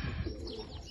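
Low pigeon cooing nearby from domestic racing pigeons, a soft throaty murmur with faint chirps over outdoor background noise.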